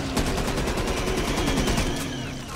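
Rapid automatic gunfire rattles off in a fast, even burst against zombies in the video game Back 4 Blood, loud and continuous for a couple of seconds before easing slightly.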